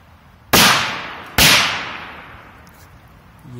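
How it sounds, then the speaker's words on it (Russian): A white firecracker explodes outdoors with two sharp, loud blasts about a second apart. Each blast leaves a long echoing decay, and no one speaks. "Так, бросаем вот такую белую петарду."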